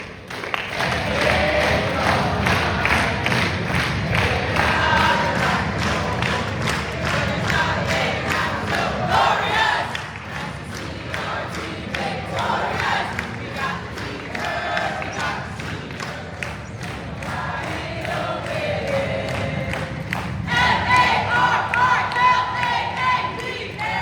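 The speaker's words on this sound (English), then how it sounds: "Join our staff as we cheer on the University of Maryland" Orientation staff and a crowd at the University of Maryland loudly cheering and singing the Maryland Victory Song together, a dense, continuous chorus of voices with shouts across the whole stretch.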